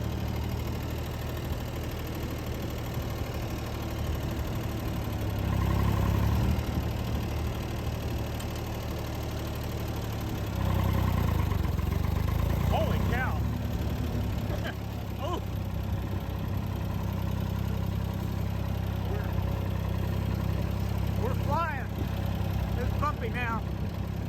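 A Ford 2600 tractor engine chugs steadily as it drives in high gear, a low continuous rumble that swells and eases a couple of times, with rattles and clunks from bouncing over rough ground and occasional talk.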